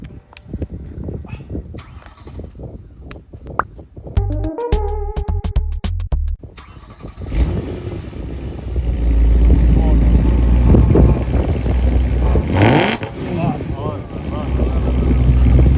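A BMW M3 E93 convertible on its stock exhaust is started: the starter turns over briefly, then the engine catches with a loud rising burst and settles into a steady, strong idle rumble with wind noise over it.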